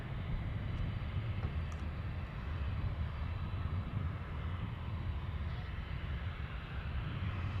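A Lockheed C-130 at Anchorage airport produces a continuous deep, rumbling propeller-engine drone, loud and steady throughout with no break.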